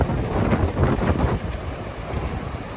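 Strong wind buffeting the microphone over crashing surf on a windy beach at Cedar Point, a loud, continuous rumbling roar with no voices.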